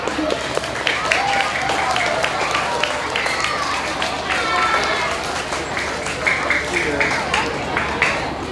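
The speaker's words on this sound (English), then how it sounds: "Let's give them a round of applause." An audience of parents and guests claps for outstanding students at a pre-K to grade 2 school awards assembly, a moderate, steady patter of applause filling the room, with some talk and movement mixed in.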